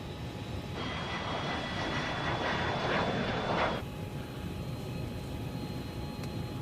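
A small airplane's engine drones steadily in flight, a continuous close hum filling the cabin with a brief louder rise early on before settling back, with no voices.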